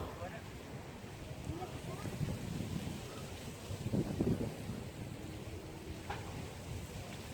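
Gusty wind from a low-pressure storm roars across the microphone with rain pattering underneath, a steady rough outdoor wash that swells briefly in the middle.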